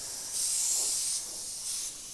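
An Iwata HP.TRN2 airbrush sprays paint in two short bursts, a close, bright airy hiss that swells and fades with a steady background air hiss between.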